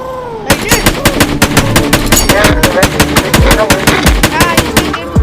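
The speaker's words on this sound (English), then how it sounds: "I shot him. I can shoot from far." Rapid gunfire from a shooting video game, a long run of evenly spaced sharp shots close and loud, continuing without pause, with faint talk in the background.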